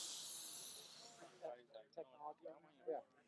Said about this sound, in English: open up the slide valve. You can feel all that air coming out.